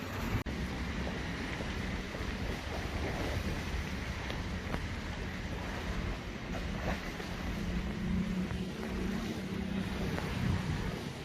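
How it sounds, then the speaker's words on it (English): Choppy River Thames water laps at Temple Pier in London, a steady rough wash and wind rush that continues without a break, loud and close, with a low rumble underneath. "This is Temple Pier. These are Temple Stairs down here, a bit rough today."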